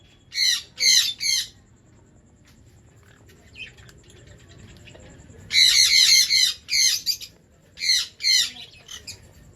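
Pet birds in a home aviary squawk in sharp, loud clustered bursts, a few quick calls at a time separated by quieter gaps, over a low background hum.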